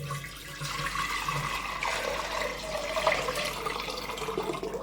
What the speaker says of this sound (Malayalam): അതിലേക്ക് നമുക്ക് വെള്ളം ഒഴിക്കാം